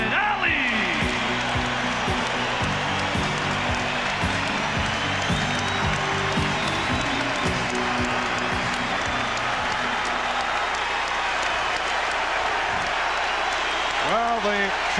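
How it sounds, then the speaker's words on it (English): A capacity arena crowd at a 1997 NBA Finals basketball game applauds, cheers and chants for Muhammad Ali in a dense, continuous roar lasting the whole stretch, with a voice speaking over it. "the chant from this capacity crowd for Muhammad Ali"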